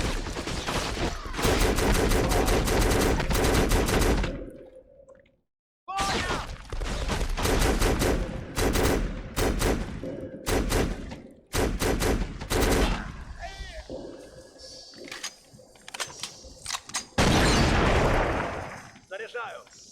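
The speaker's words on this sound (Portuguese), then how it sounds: "Tem alguém atirando de rifle nesse caralho ali." Heavy rifle gunfire in the shooter game Black: loud, rapid automatic bursts repeating through the scene, broken by short pauses, with occasional voices shouting over the shooting.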